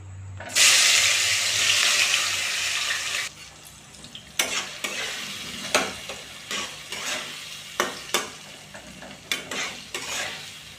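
Carrot, beans, onion, garlic, tomato and chopped chilli hit hot oil with a loud burst of sizzling, then settle into a lower fry punctuated by repeated sharp spatula scrapes and clacks against the pan.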